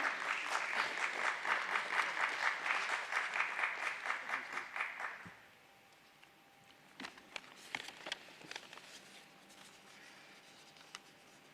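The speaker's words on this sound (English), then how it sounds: "Let's welcome him with a thunderous round of applause, ladies and gentlemen." A loud, sustained round of audience applause greets a guest at a stock exchange listing ceremony for Suyog Gurubaxani Funicular Ropeways Limited, then fades into scattered claps and light handling noise in a quieter room.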